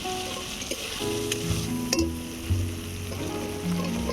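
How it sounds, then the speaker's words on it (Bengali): Washed potatoes tipped into spice paste frying in a pan for a bottle gourd and egg curry, giving a steady close sizzle with scraping stir strokes and a few soft clanks, no voices. "মশলা ভালো করে কষানো হয়ে গিয়েছে এবারে দিয়ে দিচ্ছি ধুয়ে রাখা আলু"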